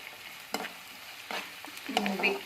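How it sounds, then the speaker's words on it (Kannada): Chopped onions fry in a pan for palak paneer, a soft close sizzle with light scraping and clatter of stirring, no talk. "ಈರುಳ್ಳಿ ಹಾಕ್ಕೊಳ್ಳೋಣ. ಇವು ಸ್ವಲ್ಪ ಗೋಲ್ಡನ್ ಬ್ರೌನ್ ಕಲರ್ ಬರೋವರೆಗೂ ಫ್ರೈ ಮಾಡಿಕೊಂಡು"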